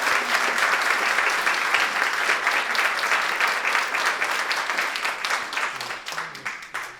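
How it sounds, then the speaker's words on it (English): Sustained audience applause at a talk on the science of reading, dense and steady clapping from many hands that thins slightly toward the end, with no voices over it. "Let's give them another round of applause."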